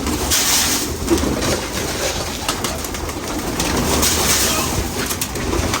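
Pigeons kept in a breeding loft of champion-bloodline birds coo steadily at close range against a dense, broadband background hum of wings and movement, with no one speaking.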